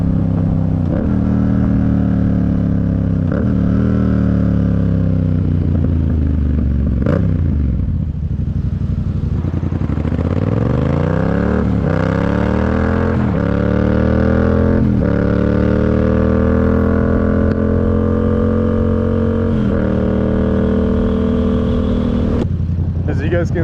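A Yamaha MT-07 motorcycle engine revs up and drops repeatedly as gears shift up and down, pitch sweeping in rising arcs between shifts, loud and close throughout.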